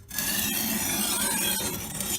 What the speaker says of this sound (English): I will sharpen that damage out.